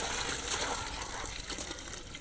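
Water poured into a pot of washed, soaked rice for bhagara rice cooked outdoors, a steady splashing gush that runs for about two seconds, close and fairly loud, with no voice over it.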